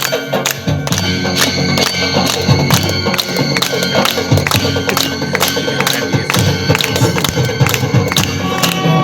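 A large audience claps and cheers at a Bhojpuri film launch in Jamshedpur, Jharkhand, a dense continuous roar of applause and crowd noise, loud and unbroken throughout.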